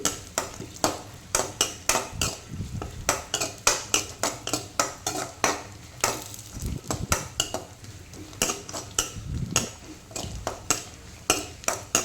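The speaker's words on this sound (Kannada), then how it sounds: "ಗೋಡಂಬಿ ಆಲ್ರೆಡಿ ಫ್ರೈ ಆಗ್ತಾ ಬಂತು" Cashews and raisins fry in a pan for vermicelli payasam, the faint sizzle mostly covered by quick, regular metallic scrapes and clinks of a spoon stirring against the pan, close and rhythmic throughout.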